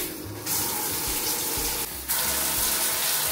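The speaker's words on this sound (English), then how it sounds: "I'm gonna turn the shower on." A shower is switched on and runs water in a steady broadband hiss and gush, briefly dipping before surging back louder and continuing without any voices.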